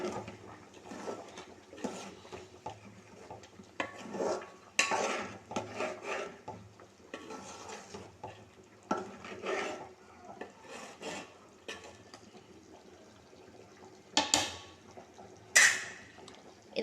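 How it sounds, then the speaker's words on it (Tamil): A spoon scrapes and stirs chicken gravy mixed with coconut poppy seed paste in a pot, giving soft, irregular rubbing and clinking strokes with no one talking. "இப்போ இது வந்து நல்லா கிளறிக்கலாம்"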